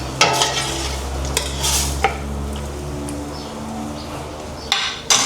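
Tomatoes being stirred and sautéed in a big pot for mung bean stew (ginisang monggo), with sizzling and utensil scrapes and knocks against the pot over a steady low hum.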